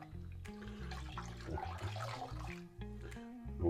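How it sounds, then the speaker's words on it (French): Water running from a tap to rinse a 1959 Gillette 195 Fatboy safety razor, a steady close splashing flow with the rattle of the razor being handled, briefly dipping before resuming. "Notre rinçage."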